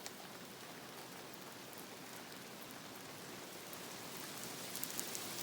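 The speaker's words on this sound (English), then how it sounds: "we got a little hailstorm" A brief mountain hailstorm beats down around an A-frame cabin in Montana in summer, a faint, even wash of hiss and patter that builds slightly toward the end, with no voices.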